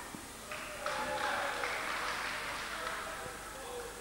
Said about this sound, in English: The Dodgers supporters clapped that foul.